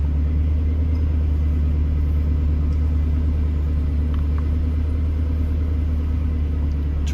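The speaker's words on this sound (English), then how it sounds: "we've got the car started" A 2005 Ford GT sits idling just after being started, its engine giving a steady, continuous low rumble that holds even and unbroken throughout with no voices.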